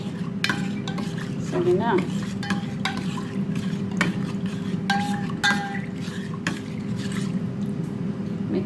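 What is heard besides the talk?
stirring lemon rasam spices with salt in a pot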